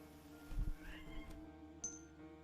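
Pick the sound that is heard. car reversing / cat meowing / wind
cat meowing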